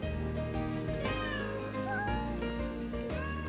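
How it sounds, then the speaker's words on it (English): Wildcat kittens with their mother, with meowing under a continuous layer of music. "Time to prowl around with a family of wildcats."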